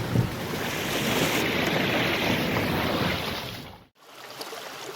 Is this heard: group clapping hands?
no